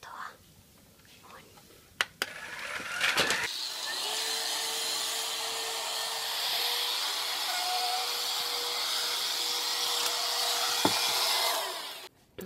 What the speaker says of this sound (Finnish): Se on imuri, jossa ei ole johtoa.